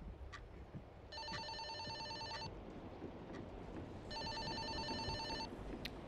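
Old-style electric telephone bell ringing in the horror game Fobia St. Dinfna Hotel, two long trilling bursts separated by a pause, fairly clear over a low ambient background rumble.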